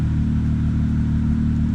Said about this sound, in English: just turn on the car, let it run for about 10 to 15 minutes